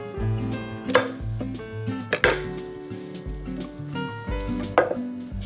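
A knife chops cold asparagus and scallions into pieces on a board for a salad, cutting in a few sharp, close strokes over a steady background hum.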